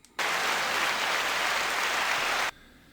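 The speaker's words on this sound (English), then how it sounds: "The crowd goes wild." A crowd bursts into loud, dense applause that holds steady for about two seconds, then cuts off abruptly into quiet.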